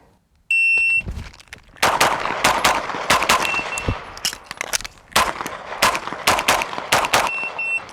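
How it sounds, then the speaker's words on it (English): A handgun fires rapid strings of loud, close shots during a timed shooting and reload drill, opening with a shot-timer beep, then bursts of gunfire broken by short pauses for reloading, with no talking. "shots at each target, reload from inside the waistband, going 1, 2, 3, reload, 3, 2, 1"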